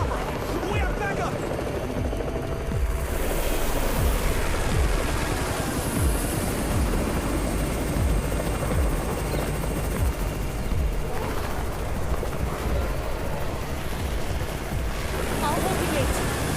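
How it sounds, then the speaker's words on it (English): A chopper arrives during a zombie fight in the video game Undawn, its heavy rotor roar and wind wash running continuously and loudly for over fifteen seconds beneath game dialogue and scattered gunfire. "It's the Raven's chopper!"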